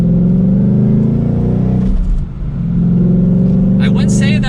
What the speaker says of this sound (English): Mustangs with a V8 can be loud depending on the exhaust that you put on it.